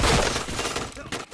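Gunfire in a shooter video game, a dense burst of rapid shots and impacts, loud and close, with a voice faintly under it.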